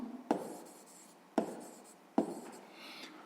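A pen writing an answer in a school maths notebook, three short close strokes each beginning with a tap, scratching softly on paper in a quiet room.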